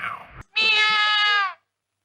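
A cat gives a single drawn-out, loud meow lasting about a second, close by, right after a brief burst of other sound, and then the clip falls silent.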